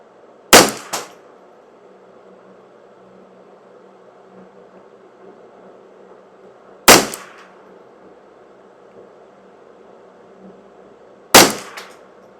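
Three sharp, loud .22 rifle shots from a Ruger 10/22 firing CCI standard velocity ammunition, spaced several seconds apart with a steady low background hum between them.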